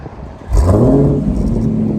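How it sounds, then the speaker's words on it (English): An Audi RS5 with an AWE track exhaust revs up sharply after a quiet start, then holds a loud, rising engine note close by. "I think it's the AWE track exhaust, they said."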